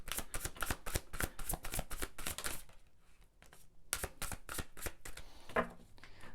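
Tarot cards shuffled in quick, crisp riffling bursts, a long run of rapid flutters, a short pause, then another burst, close and moderately loud with no talking.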